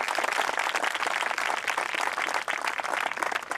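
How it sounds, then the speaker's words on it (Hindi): A church congregation claps loudly in praise of God, a dense, continuous wash of many hands applauding at once, steady and close throughout with no voices over it. "क्या कोई जोर से ताली बजाकर परमेश्वर की स्तुति कर सकता है इन सब बातों के लिए?"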